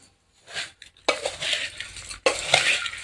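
Puffed rice bhel being stirred and tossed in a bowl, mixed by hand at home, giving soft rustling, scraping bursts in two main waves with brief pauses, close and moderately loud.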